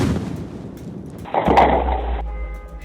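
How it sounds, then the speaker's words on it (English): A tannerite explosion goes off as a sharp blast followed by a deep, sustained rumble that rolls on for over a second before fading, heard from a distance with no voices. "the possibility that it could have been tannerite, the explosive used in the growing trend of gender reveal parties"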